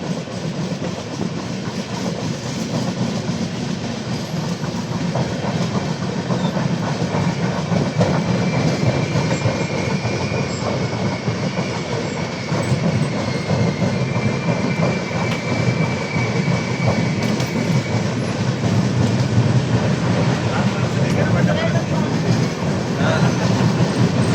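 Pune-Howrah Azad Hind Superfast with LHB coaches rolling along the rails after leaving Bhatapara, heard from inside as a loud, continuous rumble with steady wheel clatter throughout.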